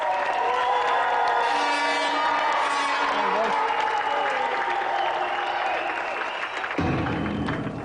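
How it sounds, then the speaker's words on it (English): Studio audience at a 1992 GamesMaster television game show bursts into loud, sustained applause and cheering for the winner and runner-up, steady throughout with whoops and music-like tones layered in, fading slightly near the end. "a round of applause for our gallant loser, Conley, and tonight's winner, Jeff!"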